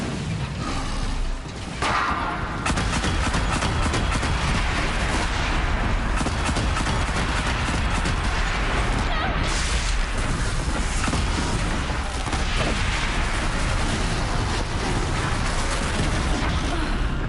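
A launcher weapon firing during combat in the Horizon Zero Dawn video game, with dense, continuous booming blasts and explosive rumble filling the whole stretch, loud and unbroken.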